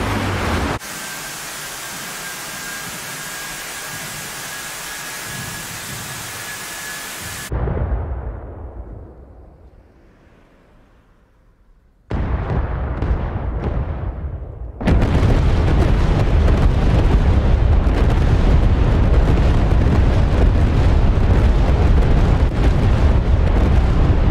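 Bombs exploding on impact in a flight simulator game during a WWII US bomber raid, heard as a sustained roar of dense, overlapping blasts, a brief quieter rumbling lull, then a renewed wall of loud continuous explosions.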